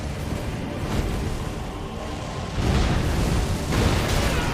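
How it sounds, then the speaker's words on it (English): A huge explosion during a video game boss fight on impossible difficulty, rumbling heavily with a low roar that swells again in two later surges, loud and sustained. "Oh, that was a huge explosion."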